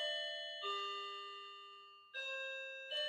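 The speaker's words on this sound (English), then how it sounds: "Hold on, my doorbell ringing." A home doorbell chimes a clear ding-dong with ringing tones that die away slowly, then sounds again twice in quick succession. It is close and clean, with no talking over it.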